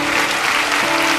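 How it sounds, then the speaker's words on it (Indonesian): Congregation applause during a church service: a brief, loud burst of dense clapping filling the hall, with no talking over it. "Beri tepuk tangan untuk Tuhan Yesus."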